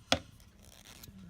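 Scissors cutting into packaging give one sharp, close snip near the start, followed by faint rustling and a softer second cut, all quiet with no talking.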